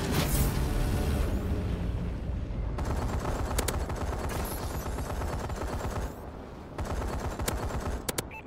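Paladin gunship fire in Call of Duty: Advanced Warfare, rapid continuous bursts of heavy gunfire rattling for several seconds with brief gaps, loud and close, mixed with game effects.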